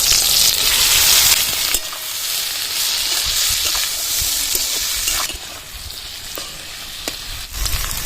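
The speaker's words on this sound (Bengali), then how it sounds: "আমি ভালো করে ভেজে নেব" Bitter gourd and potatoes sizzle and crackle in a hot pan, a loud steady frying hiss with occasional stirring scrapes and clicks, no talking.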